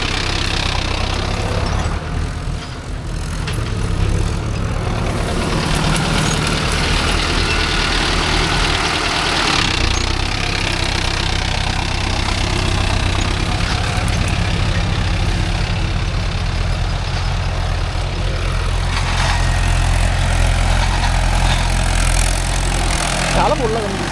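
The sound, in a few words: tractor engine running in a field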